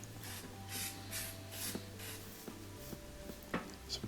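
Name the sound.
spraying electrical cleaner on gas stove burner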